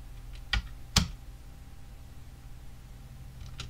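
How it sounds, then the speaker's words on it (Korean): Two or three sharp, close keyboard key presses on a computer keyboard, a Home key then the spacebar, separated by quiet room hiss, with a faint extra tap near the end; no talking. "홈키 누르고 스페이스바"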